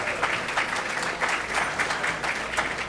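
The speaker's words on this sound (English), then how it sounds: "Okay, give all of us a hand." Audience of a Chicago school-closings forum applauding, a dense, even wash of many hands clapping that holds steady and fairly loud from start to end.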